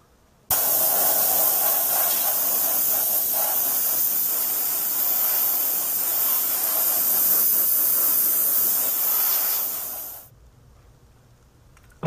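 Steady hissing spray as the exterior of a Verlinden Productions Bullseye scale model is airbrushed, loud and continuous for about ten seconds before cutting off abruptly to quiet.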